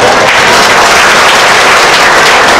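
Loud, dense applause from an audience at a school gathering, many hands clapping continuously and close up with no pauses.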